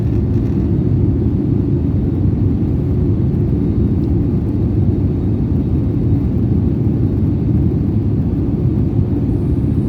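A SriLankan Airlines airliner flies low near Cochin airport, heard as a loud, steady low engine rumble that holds unchanged throughout, with no voices.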